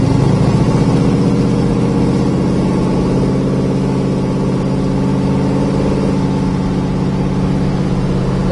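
A 1965 Chevrolet Nova engine running steadily while driving, heard as a loud, close, continuous mid-range drone with a slight rise and fall in pitch, joined by steady road rumble and no voices.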